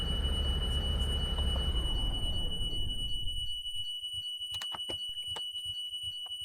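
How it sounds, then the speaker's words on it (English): A broken-down bus's alarm beeps steadily, loud and continuous at first over a heavy rumbling engine, then keeps sounding after the engine noise drops away, with scattered clicks and knocks around it. "that alarm is annoying"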